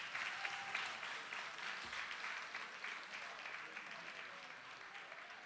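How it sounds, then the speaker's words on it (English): Audience applause for the judges closing an entrepreneurship competition at the Stevens Institute of Technology, a steady, fairly quiet wash of clapping from a crowd that holds evenly throughout. "can we give a round of applause to the judges?"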